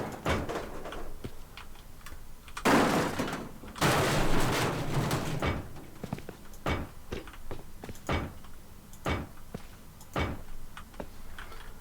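Garage doors being placed while building a bunker base in the video game Rust, heard as a string of sharp clunks and thuds, with two longer, louder rumbling bursts near the start and no talk over them.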